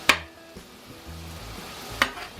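Patties frying in a pan while being pushed around: a steady close sizzle with two sharp spatula scrapes or taps, one at the start and one near the end.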